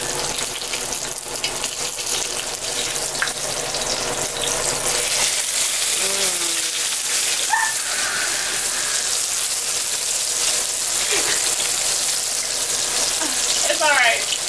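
A ribeye steak sears in a hot pan with a steady, loud broadband sizzle that holds for the whole stretch, with a few faint clinks and some background voice mixed in.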